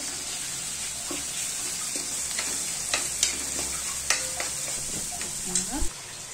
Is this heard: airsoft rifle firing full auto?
no